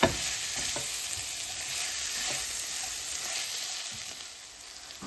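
Spiced fries are tossed with red chili flakes in a pan, a steady soft sizzle with faint scraping and stirring, close and even throughout, with no talking.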